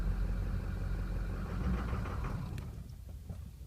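A 6.0 Powerstroke diesel engine with an EGR valve fault idles nearby, giving a steady low rumble with a faint ticking clatter that eases slightly toward the end.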